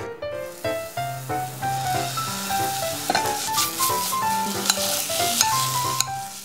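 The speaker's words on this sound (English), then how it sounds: "Heat up a frying pan and stir fry the beef." Sliced beef stir-fries in a hot frying pan, with a steady sizzle and repeated scraping strokes of a utensil across the pan, close and fairly loud, over a faint melodic background of music.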